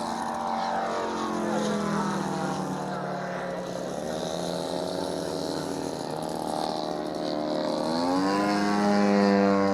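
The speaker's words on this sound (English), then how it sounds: "That's the rotary engine. Yeah. Not a radial. Rotary. Notice the whole motor spins with the propeller." A radio-controlled model airplane with a rotary engine, the whole motor spinning with the propeller, drones steadily at an airfield, its pitch sliding up and down as it passes, loud and continuous with no talk over it.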